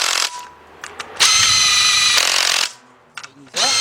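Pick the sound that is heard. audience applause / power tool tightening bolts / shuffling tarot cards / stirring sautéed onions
power tool tightening bolts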